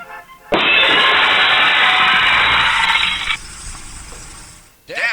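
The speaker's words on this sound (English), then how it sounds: "That's the sound of sizzling, dry-aged USDA Prime Wagyu and Angus steaks from UpperCutChops.com." Dry-aged USDA Prime Wagyu and Angus steaks sizzle in a loud, steady, close hiss lasting about three seconds before it drops away, with no voices over it.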